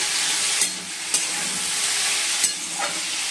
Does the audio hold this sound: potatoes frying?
yes